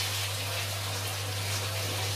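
Untreated tap water running through a hose into a Juwel Rio 240 aquarium during a water change, a steady close rushing hiss with a constant low hum underneath.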